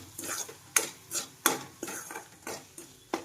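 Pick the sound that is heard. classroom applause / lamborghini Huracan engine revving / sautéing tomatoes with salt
sautéing tomatoes with salt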